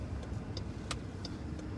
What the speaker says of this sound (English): Is that car up there still making that noise?